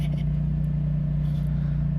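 A quad ATV engine hums steadily while riding through a canyon campground, a close, loud low drone with a constant pitch and no breaks.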